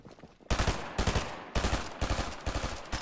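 Rapid automatic gunfire in a Fortnite match, loud and close, coming in several dense bursts separated by short pauses, with no talking over it.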